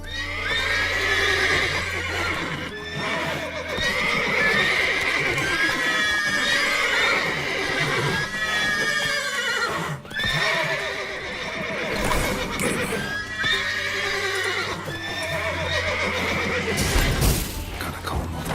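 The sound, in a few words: horses neighing and hooves in The Witcher 3 video game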